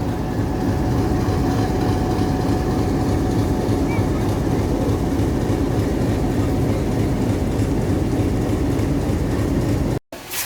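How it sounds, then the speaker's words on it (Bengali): A train at Rajbari railway station gives off a steady, loud, low rumble that holds without a break for about ten seconds, then cuts off abruptly at the end. "কিছুক্ষণের মধ্যে রেলগাড়ি ছাড়বে।"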